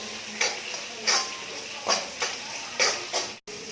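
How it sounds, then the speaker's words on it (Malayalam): A spoon stirs coriander powder into chicken gizzard and liver frying in a pan, a steady rhythm of about six scraping strokes over a continuous close sizzle, ending with a brief cutoff. "വീണ്ടും ഇളക്കി കൊടുക്കാം"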